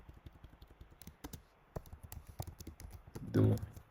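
Keys on a computer keyboard are typed in a quick irregular run of soft close clicks, with someone speaking quietly over the typing.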